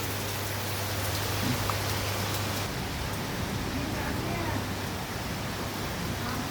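Heavy rain with strong wind on a Sunday in Maduravoyal, Chennai, a dense steady hiss of pouring water that holds unbroken from start to finish, with a low hum running beneath it.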